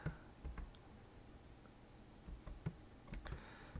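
Quiet, close computer keyboard typing in irregular bursts of clicks, with brief pauses between keystrokes, no voice over it.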